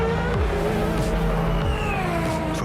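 A race car roars past with repeated quick gear shifts and rising and falling engine pitch, loud and close, under a McLaren Racing themed advert.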